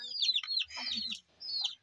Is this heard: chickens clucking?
yes